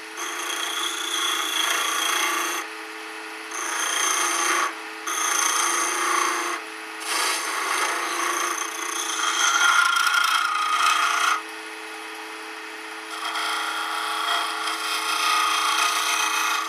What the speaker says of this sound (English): Now, my little smoothing scraper.